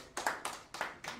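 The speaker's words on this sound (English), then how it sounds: "round of applause if you're an immigrant in the audience" Audience applause at a stand-up comedy show, heard as short bursts of clapping that come in four quick swells and fall away between them, fairly close and with no talking over it.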